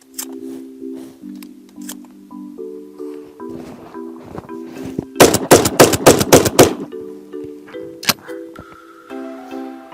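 An Aksa Ekstrem blank pistol is fired rapidly until the magazine is empty, giving a tight burst of about ten loud, sharp reports in a row. Loud outdoor background noise and other activity are heard before and after the burst.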